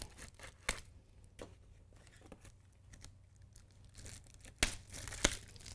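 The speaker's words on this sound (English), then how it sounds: "several zip ties that need to be cut." Scissors snipping several zip ties off packaging during single-speed bicycle assembly, a string of sharp separate clicks and snaps at irregular intervals over faint crinkling, close and alone.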